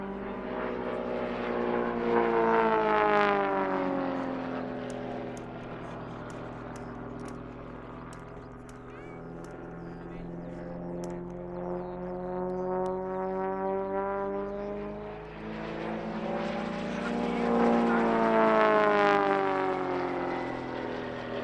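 A full-size Extra aerobatic aeroplane and a model aircraft fly a display at an air and country show, propeller engine drone rising and falling in pitch as the planes pass, loudest near the start and again toward the end, distant in between.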